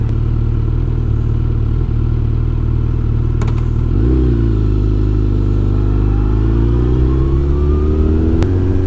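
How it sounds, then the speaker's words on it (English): A Suzuki Hayabusa sport bike roars loudly and continuously on an empty street at night during burnouts, its engine swelling as it revs up midway, then holding a strained, droning pitch. "Start doing some burnouts."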